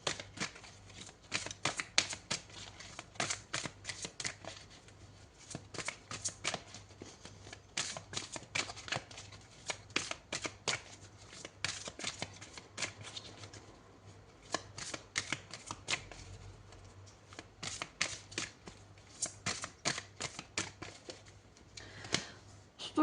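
Tarot cards are shuffled over and over in a close, quiet room, giving rapid papery riffles and flicks in repeated bursts with short pauses between them.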